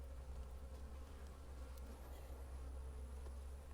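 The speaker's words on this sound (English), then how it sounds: "these bees are pretty calm today" Steady, dense buzzing of honey bees, a continuous close hum with no voices, level and unbroken throughout.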